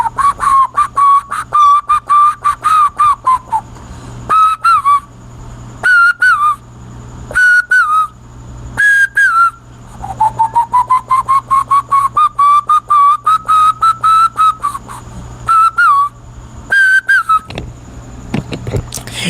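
A person whistles an imitation of a koel cuckoo's evening call, a series of rising whistled phrases repeated many times with short pauses, loud and close throughout.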